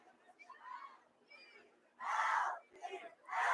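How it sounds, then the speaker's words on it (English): Crowd at a boys' high school soccer match shouting and cheering, quieter murmurs first, then loud bursts of yelling that rise and fall in waves. "East Salmeadow's crowd getting a little loud here."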